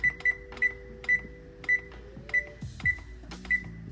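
An oven control panel is set to 450 degrees: a steady run of short, evenly spaced electronic beeps, about one every half second, close and clear with faint kitchen hum underneath.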